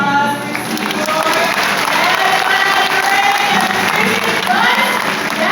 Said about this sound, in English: quick round of applause for Seymour.